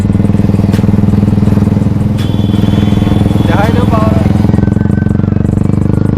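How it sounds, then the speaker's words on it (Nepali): A motorcycle engine rumbles loud and close in a steady, throbbing drone, with brief voices rising over it midway through. "ल फेरि हाम्रो साउन्ड सुरु हो बाइकको"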